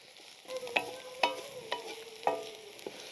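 Chili powder and turmeric being stirred into a frying gunta gobi (cauliflower) curry, a quiet sizzle punctuated by four or five sharp metallic spoon scrapes and taps against the pan, close up with no talking.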